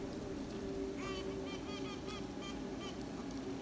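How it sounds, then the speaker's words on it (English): A honeybee queen gives short, repeated high-pitched piping pulses, characteristic and loud, that rise over the dense buzzing hum of a swarm of worker bees during requeening. "queen makes sounds that somewhat hinder the negative reactions of the workers"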